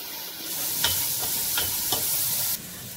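Two tablespoons of ginger garlic paste fry in a pan for chicken Patiala, a steady sizzle broken by a few quick stirring scrapes before it suddenly quiets.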